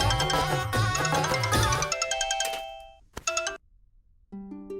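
A phone plays a melodic electronic ringtone in a Hindi TV drama scene, loud and bright, cutting off and restarting in short tonal bursts after a brief pause.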